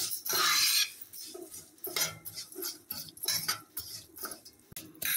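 Vermicelli toasting in a pot for Egyptian koshari, heard as repeated scraping and clinking of a metal spoon against the pot in irregular bursts, close up, over a faint sizzle with no talking.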